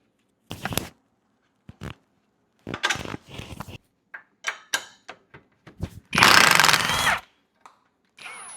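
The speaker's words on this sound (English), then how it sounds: "Now we need to go ahead and unbolt both of the lower shock bolts." A power tool unbolting the lower shock bolts on a Jeep JK/JKU with the rear axle on a jack: one loud, roughly one-second whirring burst among scattered clanks and handling knocks.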